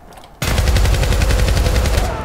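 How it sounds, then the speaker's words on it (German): Heavy automatic gunfire in the video game Syndicate, a loud rapid burst of shots that starts abruptly after a quiet moment and rattles on continuously for nearly two seconds. "Boah, was es hier an Schuss gibt."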